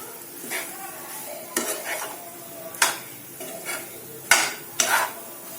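A spoon stirs pasta masala into red sauce pasta in a pan, making intermittent scraping clinks against the metal over a low, quiet sizzle.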